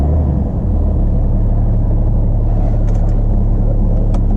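A 2011 BMW 335d M-sport diesel runs steadily at close range, a loud, constant low rumble with a slight dip near the start and no voices over it.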